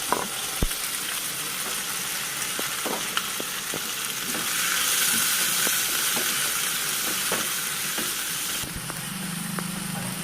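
Chopped onions and green chillies fry in hot oil in a pan, a loud steady sizzle that swells in the middle, punctuated by repeated soft taps and stirring clinks, then eases slightly as a lower hum appears near the end.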